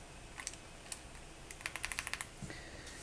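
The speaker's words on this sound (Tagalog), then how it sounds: "And testing na natin. Keyboard test." Keys on an Attack Shark M87 mechanical keyboard with PBT keycaps clack in a quick, uneven burst of about a dozen presses, close and fairly quiet, with no talking.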